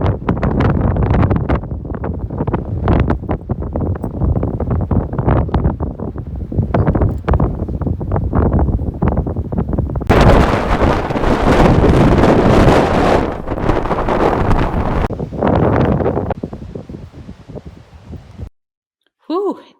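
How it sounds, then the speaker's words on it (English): Strong wind buffets the microphone outdoors in loud, continuous rushing gusts, with faint clicks and rustling, before cutting off abruptly near the end. "it was windy out there"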